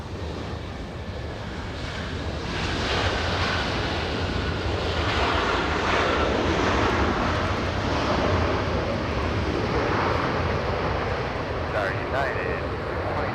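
A Virgin heavy jet airliner on its takeoff roll from runway 24 left at Los Angeles airport builds a loud, sustained engine roar that swells after the opening seconds and holds steady and close, with faint background sounds near the end.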